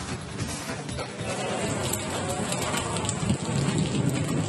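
Heavy rain with thunder across Chitradurga district in Karnataka: a dense, loud, continuous downpour hissing on surfaces, with low thunder rumbling beneath it and no voices.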